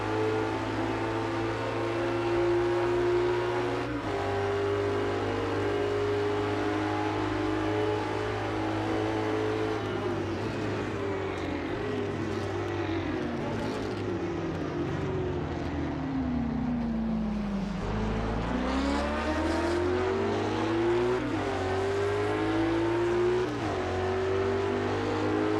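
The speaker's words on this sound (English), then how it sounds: "Hear that Aston from here." A historic Aston Martin sportscar in the Assetto Corsa racing game at the Norisring roars steadily, its engine note climbing and falling through gear changes, with another engine tone droning underneath.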